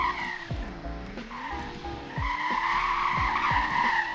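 Tires squeal and skid repeatedly over a steady engine drone in a Roblox-style driving game, Greenville Wisconsin, with short bursts of sliding scrub recurring every second or so, fairly loud and close.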